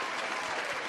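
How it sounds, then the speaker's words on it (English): An applause sound effect: a brief, dense burst of many hands clapping at an even, full level, with no other sound. "I have clapping sounds."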